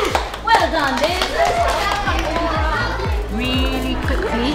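A group plays a rhythmic clapping game, sharp hand claps landing in a steady pattern while people chant and call out instructions over them.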